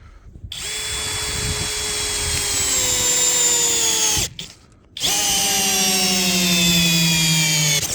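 A cordless screwdriver drives a 55 cm self-tapping screw into acacia wood with a loud, close, strained whine that slows under load, stops for a moment, then starts again.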